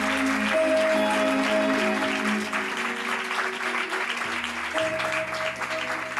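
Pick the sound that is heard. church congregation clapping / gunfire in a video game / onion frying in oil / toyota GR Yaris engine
church congregation clapping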